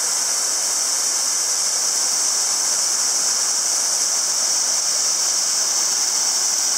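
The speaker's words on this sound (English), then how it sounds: "We've been hiking down the face of this waterfall, starting up there, climbing hand over hand down the cliff." A waterfall tumbling down a cliff face near a marine research station in Alaska roars as a loud, steady, broadband rush of falling water, close and unbroken throughout, with no voices.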